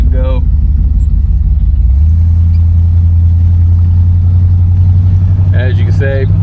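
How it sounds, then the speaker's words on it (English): A 1975 Buick LeSabre convertible engine rises from idle as the throttle is pressed, its low rumble stepping up to a steadier, louder drone, with someone talking over it. "Throttle response is decent. As soon as I hit the pedal,"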